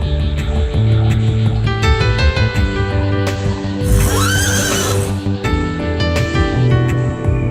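A horse neighs loudly for about a second and a half on a cave beach, heard over a steady bed of background music with a strong wavering whinny in the middle.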